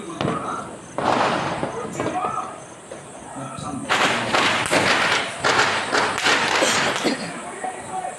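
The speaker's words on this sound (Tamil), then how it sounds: "எங்கள் ஏரியாவிலும் வெடி வெடித்தன" Repeated fireworks booms and crackling bursts go off irregularly outdoors, some near and some farther away, with faint background voices between them.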